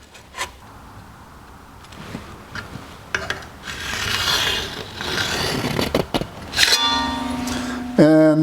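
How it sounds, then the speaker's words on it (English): Scraping and rubbing strokes, like metal scribing along a seat track for a 1949 Chevrolet gasser, come in short bursts up close, with a couple of sharp clanks and a ringing tone near the end. "We'll scribe a line."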